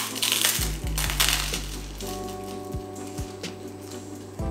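Crisp, close crunches of someone biting and chewing a sandwich made with crusty bread, repeated bites in an irregular rhythm over faint background noise, with no talking.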